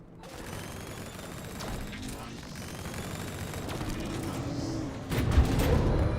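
Rattling gunfire and mechanical effects from the video game Split Fiction run steadily under people talking, growing louder with a heavier burst near the end.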